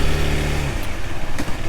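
An FB Mondial HPS 125 Euro 5 motorcycle during break-in runs its engine up close, a loud steady drone with a low hum that shifts slightly partway through.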